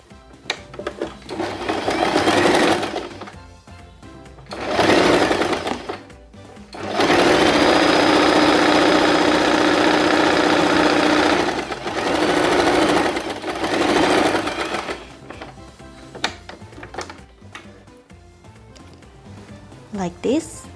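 A sewing machine running a regular stitch through fabric for a baby turban cap whirs in several separate bursts, one long steady run in the middle, with quiet pauses and handling noises between runs.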